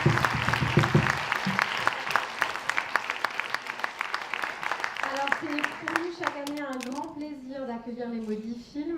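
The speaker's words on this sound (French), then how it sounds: "merci à chaque séance de bien penser à l'applaudir" Cinema audience at a film festival applauding the projectionist, a burst of clapping that gives way to someone speaking over the last of it.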